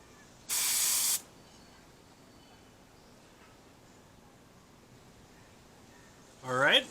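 Airbrush spraying hyper silver chrome paint onto a Gundam model part: a steady half-second burst of hiss near the start, then quiet until a voice begins speaking at the end.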